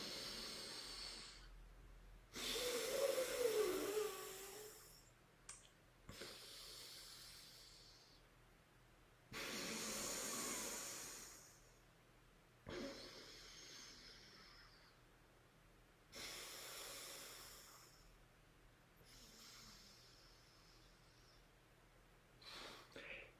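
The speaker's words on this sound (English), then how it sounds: "keep doing alternate nostril breathing" Alternate nostril breathing during yoga practice: slow, airy nasal inhales and exhales in separate bursts of a few seconds each, close and soft, with quiet pauses between breaths.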